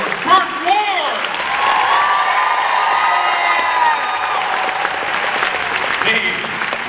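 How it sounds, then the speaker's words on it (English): Audience applause and cheering at a MegaCon 2016 convention Q&A panel as Burt Ward is welcomed on stage, a dense, sustained roar of clapping with whoops and shouts that stays loud throughout. "Make some applause for Burt Ward!"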